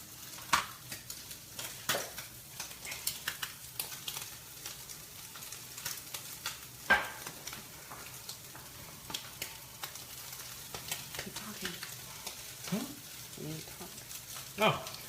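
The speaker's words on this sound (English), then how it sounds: "We're cooking crab cakes." Crab cakes fry in a pan with a low, steady sizzle, broken by scattered utensil clicks and taps while people talk intermittently over it.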